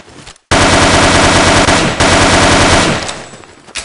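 Rapid machine-gun fire in a shooter video game, a loud close burst of evenly spaced shots lasting about two and a half seconds, then trailing off with no talk over it.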